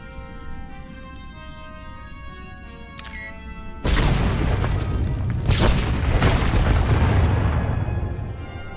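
An explosive detonates in Star Wars: The Old Republic, a sudden loud boom cutting in over quiet game music and then rolling into a long, heavy rumble that slowly fades.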